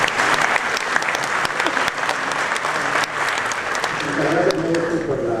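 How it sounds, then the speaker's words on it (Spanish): Audience at a physics award ceremony breaking into sustained applause, many hands clapping close and loud with some voices mixed in. "Un aplauso para la clase."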